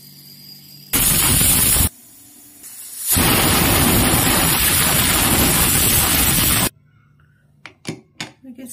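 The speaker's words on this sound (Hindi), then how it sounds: "देखिए, स्टीम रिलीज हो गया है।" Steam venting from a pressure cooker after three whistles while mixed vegetables cook, a loud broadband hiss in two bursts, the second longer, then quieter clatter.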